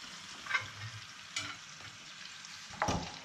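Chopped peeled tomatoes sizzle in a hot frying pan with a steady crackle, broken by a few soft stirring scrapes and knocks, close up with no talking.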